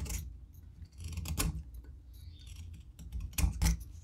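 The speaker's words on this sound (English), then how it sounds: "I'm just going to cut a little bit of material like that" Wood being cut by hand while shaping a wooden bluegill jointed swimbait, giving a few short, close scraping and snipping bursts with brief pauses between them.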